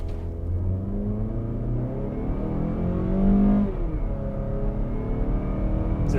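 A 2023 Mazda CX-50 crossover engine accelerates steadily with a rising drone, then a slow, drawn-out gear shift briefly drops the pitch before it pulls again; heard up close and continuous.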